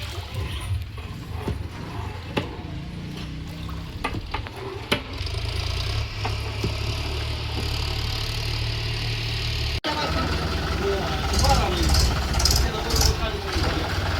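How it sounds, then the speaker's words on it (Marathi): A steady low tractor engine rumble runs throughout as it powers a generator, close and loud, with the tone shifting partway through and voices talking over it. "आता आपण जनरेटर जोडते ट्रॅक्टरला"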